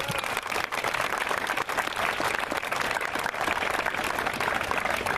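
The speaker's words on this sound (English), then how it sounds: "And so I need to do another round of applause for that." An audience at a memorial run gives loud, continuous applause honoring a Silver Star recipient, a thick, steady roar of many hands clapping throughout without pause.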